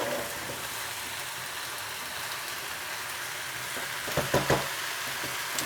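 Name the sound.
food sizzling while stirred in a wok with a spatula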